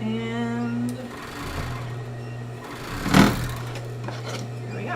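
A sewing machine stitches the edge of a stretchy sports bra in a short whirring run at the start, then fades to low background noise with a brief knock partway through.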